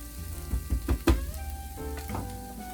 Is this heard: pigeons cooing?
no